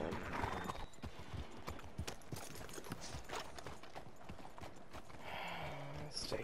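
Horse hooves clip-clop steadily in a video game, a rapid even patter at moderate loudness, with a brief whinny and game sounds near the end.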